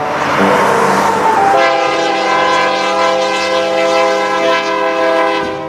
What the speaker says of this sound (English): getting passed from the back by a stack train